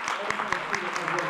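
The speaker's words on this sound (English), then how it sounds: "And so give them a round of applause." Audience applause for students at a high school concert, a brisk burst of many hands clapping, moderately close and steady across the short stretch.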